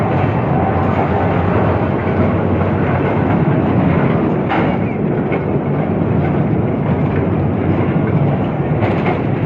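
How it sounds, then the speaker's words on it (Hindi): An electric train runs through the tunnels of the Khewra salt mine, a steady loud rumble with faint clatter filling the whole stretch, broken by a couple of brief sharper knocks. "ये जी ट्रेन, और ये बिजली से चलती है।"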